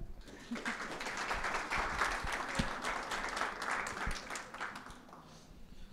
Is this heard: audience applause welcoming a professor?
yes